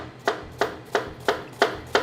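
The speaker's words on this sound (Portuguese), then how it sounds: "Cebolinha cortada bem pequenininha." An onion being finely chopped with a knife on a board for risotto, six evenly spaced, crisp knife strikes in a slow steady rhythm, close and fairly quiet, with no talking.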